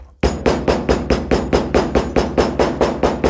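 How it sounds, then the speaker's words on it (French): A hammer pounds a leather wallet in a steady rhythm of about fifteen sharp, evenly spaced blows, each loud and close with a short ringing decay. "Sachant que j'utilise le même marteau que pour aplatir les coutures."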